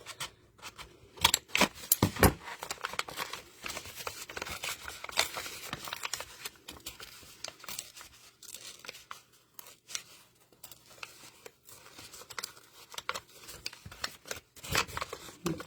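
Scissors snip and crunch into a paper envelope to cut a hole, a series of quiet, irregular close-up cutting and crinkling sounds with short pauses between snips.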